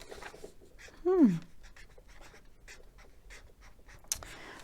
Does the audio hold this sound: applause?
no